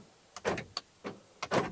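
A car's power door locks actuate after a replacement door is installed, giving several sharp mechanical clunks and whirs in quick pairs, close and fairly quiet with no talking.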